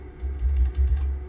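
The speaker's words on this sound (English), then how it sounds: "in Houdini you have to keep typing things" Computer keyboard typing during Houdini 3D software work, a steady run of soft, close key clicks with low desk thumps, no voices.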